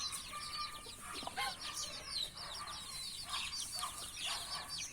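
A mother hen clucks softly among other chickens on a Thai farm as she leads her chicks from the nest, with repeated short calls over steady outdoor background noise.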